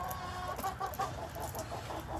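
A chicken clucks in a series of quick, soft, close clucks, a low murmur of farmyard noise behind it and no speech over it.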